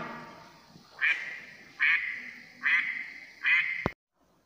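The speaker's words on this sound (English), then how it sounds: "this is duck." Four nasal duck quacks come in a loose, even rhythm, close and clear against a quiet background, and a short sharp click follows the last one.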